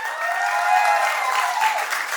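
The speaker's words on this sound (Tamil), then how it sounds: "உங்களுடைய பலத்த கரகோஷங்களுடன் மேடைக்கு அழைக்கலாம்." Loud, steady applause from an audience at a music launch event as performers are welcomed onto the stage, a dense continuous clatter of clapping with no speech over it.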